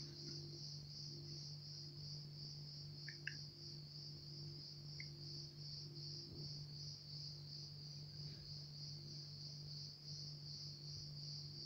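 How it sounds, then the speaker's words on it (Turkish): Field crickets chirp steadily in a dense outdoor chorus, a continuous high trilling held at an even level throughout with a low hum beneath and a few faint clicks. "Cırcır böcekleri yine başladılar. Cırcır böcekleri korosu."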